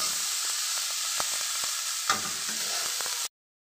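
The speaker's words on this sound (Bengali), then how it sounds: "আর এদিকে আমি আলু আর কপি টানাইতেছি" Potatoes and cauliflower are stir-fried in a pan with a steady loud sizzle, punctuated by soft scraping clicks of stirring, then cutting off abruptly.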